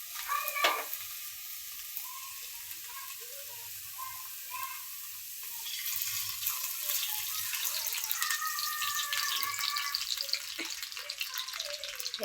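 Oil sizzles in a pan for frying okra, a steady crackling hiss with small pops and spatters that grows a little louder and busier partway through, with no talking.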